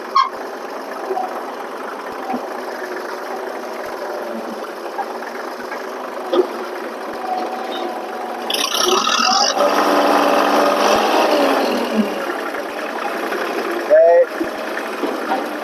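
A 1954 custom mega cab truck engine idles and runs at a steady mid-pitched drone, with a louder revving stretch midway and occasional knocks, heard close up.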